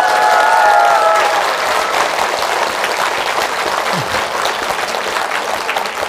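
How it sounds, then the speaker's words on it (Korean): A Korean Buddhist lecture hall audience claps together in a loud, sustained round of applause, a full steady roar of many hands with no speech on top. "걔한테 좀 잘하라고 박수 한번 쳐줘"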